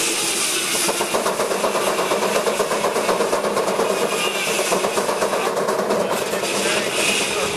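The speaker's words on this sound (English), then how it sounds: "most of these engines are hit and miss governed" Gas engines with hit-and-miss governors run at an outdoor steam show, a dense, steady mechanical chugging with rapid rhythmic pulses and broad noise, loud and continuous.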